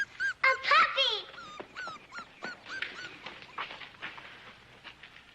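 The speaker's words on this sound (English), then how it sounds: "A puppy!" A small puppy whimpering and yipping up close, a run of high, thin cries and squeals in quick bursts that grow softer and more broken toward the end.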